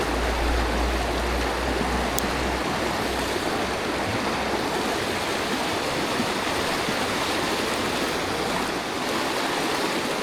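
Swift stream water on a trout fishing trip rushes in a constant, loud, full hiss, with a low rumble early on and no voices.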